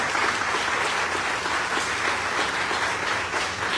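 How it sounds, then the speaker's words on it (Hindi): A seated audience at a public gathering claps in a continuous, even burst of applause, fairly loud and close, with no voices standing out above it. "तालियां बजती रहेंगी,"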